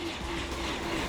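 A brief, loud roaring rush of a High Speed 1 train passing close by at 300 km/h.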